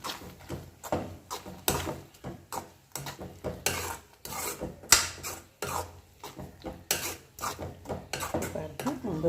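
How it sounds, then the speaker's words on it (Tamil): Semiya kesari with cashews and raisins being stirred in a pan, a rhythmic series of scraping, rasping strokes of a spoon against the metal, close and fairly loud, with short pauses between strokes. "இது எல்லாத்தையும் சேர்த்து நல்லா மிக்ஸ் பண்ணிக்கலாம்."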